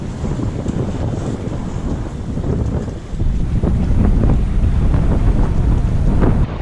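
Strong wind buffets the microphone aboard a large boat, over a low rumbling wash of water and engine, steady and loud throughout, growing slightly stronger midway.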